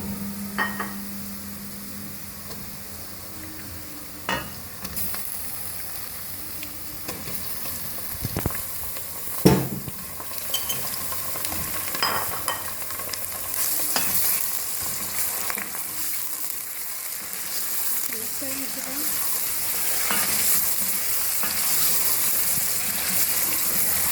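Steady sizzling of chicken frying in a hot pan with golden-browned ingredients, with occasional clinks and stirring noises over a constant crackling hiss.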